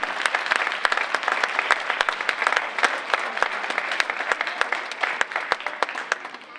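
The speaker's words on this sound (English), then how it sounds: "I want a round of applause for you." Audience applause rings out at a school district Martin Luther King Jr. event, with dense, steady clapping from a crowd that holds for about seven seconds with no speech over it.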